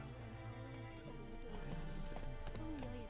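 Hooves of Roach, the horse in The Witcher 3: Wild Hunt, clip-clopping at a steady gait, soft and rhythmic under a dense bed of game music and ambience, with no talk over it.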